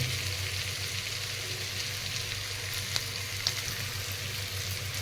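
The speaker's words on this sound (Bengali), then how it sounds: "এটাকে আমি আর একটু ভালো করে কষিয়ে নেব" Shrimp sautéing with pointed gourd and potato in a pan, a steady loud sizzle and fry crackle throughout with a couple of faint clicks, no talking.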